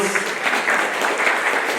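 Applause from a seated audience at a round-table panel, greeting participant Chico Cruz as he is introduced; steady, dense clapping from a nearby crowd that holds evenly through the moment with no voices on top.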